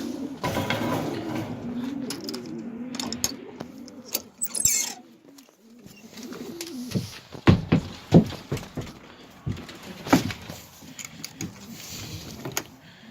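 Pigeons coo softly inside a loft, while clicks, clatter and a door or latch rattle as someone steps in.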